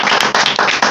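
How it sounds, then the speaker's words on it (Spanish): Brief burst of audience clapping during the Leoneses al Aire broadcast program, loud and close, with dense overlapping hand claps over about one second. "un aplauso para todos"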